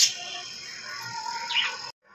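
Small birds chirp and tweet steadily while being fed spinach outdoors in the morning, a continuous close twittering that stops abruptly near the end.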